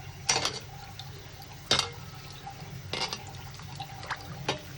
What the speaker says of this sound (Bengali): তো এখন এগুলো সব ভালো করে ধুয়ে নেব